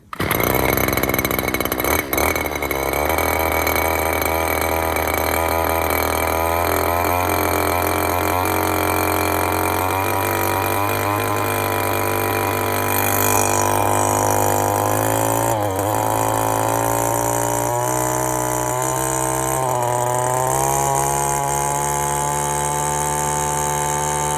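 A Stihl FS 91R string trimmer on fresh gas after choking fires up and runs at a steady, loud, buzzing engine drone the whole time, with the pitch shifting slightly as the throttle varies.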